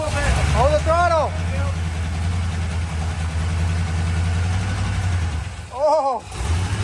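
A Corvette engine runs steadily at a low, even idle with the throttle held, loud and close, while people talk over it near the start and end.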